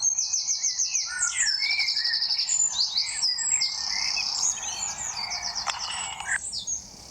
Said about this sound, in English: There's a lot of birds around here because of the church and the trees and stuff.